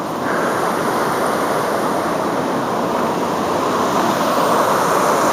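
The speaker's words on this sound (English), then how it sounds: "that's the river flowing into the lake" Swollen, flooded river pouring into a lake, a steady, loud broadband rush of water with wind across the microphone, continuous and close with no talking.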